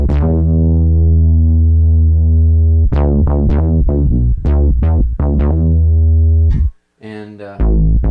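Bass guitar synthesizer tones from a Roland GR-33B, loud sustained low notes with a string of plucked attacks in uneven rhythm, a brief drop to silence, then a buzzier synth note resumes.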